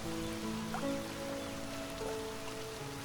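Steady rain falls at night over a quiet village, a soft, even hiss of drops on surfaces continuing without pause, with faint low tones in the background.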